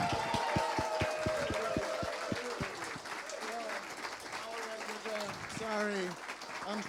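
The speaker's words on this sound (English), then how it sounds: "I'm gonna ask you to applaud and cheer so that we can make the test pass" Audience at a lightning talks session applauding and cheering on cue, with sharp rhythmic claps at first giving way to a broad crowd wash with whoops and shouts layered over it.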